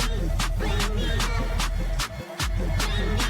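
Layered electronic sound effects in an Ableton Live 12 track: a sweeping riser with rhythmic pulsing bursts, a booming low impact underneath, and a brief dropout near the end.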